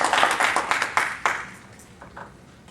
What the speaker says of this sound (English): if you give her a nice round of applause,